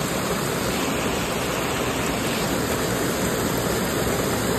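Steady, dense rain hisses continuously at an even level, a broad rushing wash with no voices or breaks.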